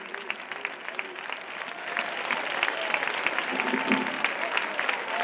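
Audience at a flamenco show bursts into dense, sustained applause, many hands clapping at once and swelling slightly before holding steady throughout.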